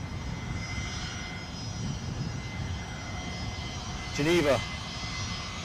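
An Airbus A320 jet is heard at Edinburgh airport as a fairly quiet, steady engine rumble in the distance, with a brief burst of talk partway through.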